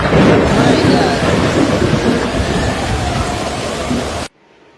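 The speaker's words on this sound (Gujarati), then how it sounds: "પીપળવા ગીરમાં પવન સાથે ધોધમાર વરસાદ" Heavy rain lashes down with strong gusting wind in Pipalva village in Gir, Saurashtra, a loud continuous roar of downpour and wind that cuts off abruptly near the end.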